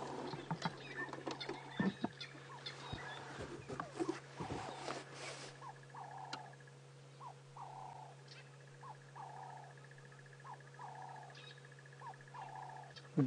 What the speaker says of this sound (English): Doves calling in the background.